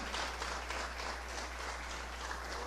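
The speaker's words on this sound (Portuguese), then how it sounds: "Então aplauda ao Senhor, essa grande vitória" Congregation applauding during a church communion service, a broad steady wash of clapping over a constant low electrical hum, fairly faint and even throughout with no speech.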